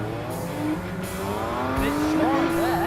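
Cars drifting on a damp, slippy track at a New Year's Eve drift day at Teesside, with engines revving and shifting pitch at mid distance over steady background noise.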